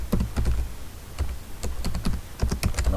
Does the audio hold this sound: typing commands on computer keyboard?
yes